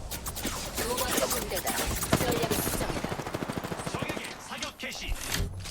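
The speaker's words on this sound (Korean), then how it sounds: "사격 중." Rapid automatic gunfire in the battle royale shooter Apex Legends, a dense stream of close shots that later becomes a quick evenly spaced burst, with a voice talking over part of it.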